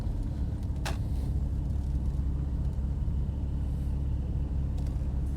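A Porsche Spyder pulls up outside, its steady low engine rumble holding close and even throughout, with a brief sharp burst partway in and no talking.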